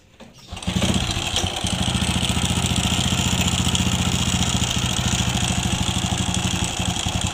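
A Honda Wave 100 motorcycle engine with a worn timing chain starts up and runs rough, giving a loud, steady, grinding, rattling idle up close that continues alone after a brief start.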